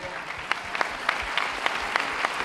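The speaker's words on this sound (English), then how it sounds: "We'd like to give them a round of applause" An audience at a school district convocation breaks into dense, sustained applause, many hands clapping together in a steady wash with sharper individual claps standing out.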